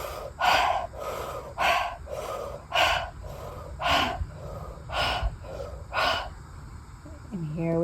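Rhythmic breathwork breathing during a conscious connected breathing session: about eight short, forceful inhales in steady pulses roughly every half-second to second, close and fairly loud, with a soft tone at the end.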